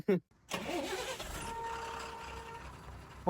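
A vehicle's engine starts and runs close by as a hitchhiked ride pulls away on the road to Nepal, a steady hum with voices talking over it.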